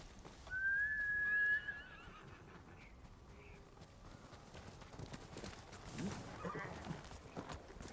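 A horse in the Ghost of Tsushima video game lets out a loud whinny, then hooves clip-clop softly on the ground in an uneven patter, with no talk.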